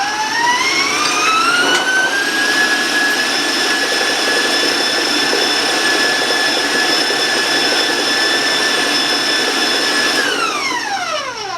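An electric mixer whirs at high speed, beating cake batter for a prune spice cake. A loud, steady whine rises as it speeds up, holds for several seconds, then drops as it slows.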